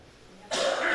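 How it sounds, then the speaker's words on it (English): One loud, harsh cough bursts out suddenly after a moment of near silence and carries on to the end, close and forceful. "Loud ass cough."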